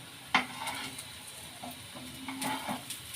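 Potato, peas and capsicum tikki frying in a pan just after flipping, giving a steady soft sizzle broken by a sharp clink of a utensil near the start and light scraping and tapping against the pan.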